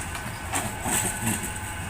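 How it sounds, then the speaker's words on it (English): A Metrolink tram pulls into the St Peter's Square stop in Manchester city centre, a short low rumble of motors and wheels with a faint high whine, heard briefly nearby. "Just watch the tram arriving at St Peter's Square Metrolink stop"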